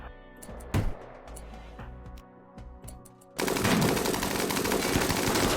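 Gunfire in the RimWorld game: scattered single shots and bursts for a few seconds, then a dense, continuous roar of rapid automatic fire that fills the rest of the clip.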